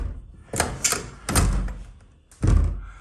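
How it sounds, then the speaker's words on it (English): A badly fitted old door closing and springing back open, giving three distinct close thuds and knocks spaced about a second apart, with a faint rattle between them. "the door's springing back because it's just badly fitted"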